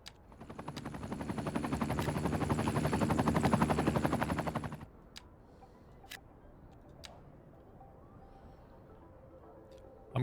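A helicopter in the city-building game Cities: Skylines 2 gives a loud, steady rotor chop with a dense rapid pulse for about five seconds, then cuts off abruptly, leaving a quiet hum and a few faint ticks.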